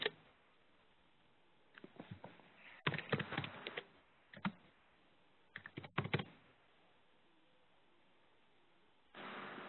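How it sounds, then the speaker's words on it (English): Typing on a computer keyboard during an online meeting comes through as scattered clusters of soft, quick key taps. The typing is faint and distant, with pauses between bursts and no speech. "I hear some typing sound."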